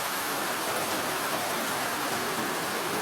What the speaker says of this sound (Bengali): অবশেষে বৃষ্টি আমার চলে আসলো